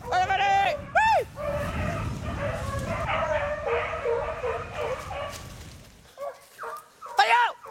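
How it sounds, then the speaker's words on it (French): Hunting dogs give voice while chasing a wild rabbit across open plain, with yelping, whining cries near and far over rustling outdoor noise and a short human call. "Les chiens, ils ont un bout de voix dans la plaine"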